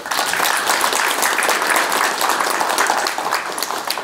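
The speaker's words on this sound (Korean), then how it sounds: "우리 세 분에서 큰 박수 한번 부탁드립니다." Dense, sustained applause from an audience at a Korean policy forum on fire-safety construction contracting, many hands clapping loudly and evenly for about four seconds with no voices over it.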